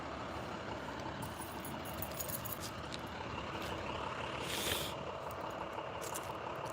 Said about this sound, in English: Sorry, there's a truck there.